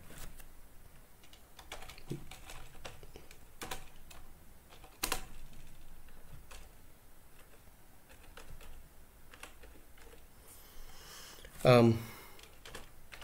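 Rapid typing on a computer keyboard while renaming a file, with irregular close key clicks, a few louder taps and a brief cluster of stronger strikes near the end.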